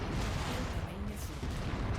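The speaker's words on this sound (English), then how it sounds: "Oh, that's a lot of firepower coming in on me." Heavy incoming missile fire and explosions in a mech combat video game form a dense, continuous roar of booms and gunfire, loud and unbroken throughout.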